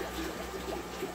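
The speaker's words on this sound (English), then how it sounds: "A simple rinse off, I put it in here, and boom, it started cleaning or pumping that water out." A HOMASY 900gph budget water pump pushes water out in a steady, even rushing and gurgling flow, close and unbroken throughout.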